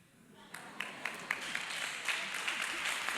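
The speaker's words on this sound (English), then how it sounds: "Clap hands for the deliverer, the healer himself amongst us." Worship service congregation clapping hands, building from a few distinct claps into fuller applause with a voice speaking faintly underneath.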